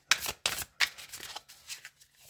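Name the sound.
shuffling a deck of cards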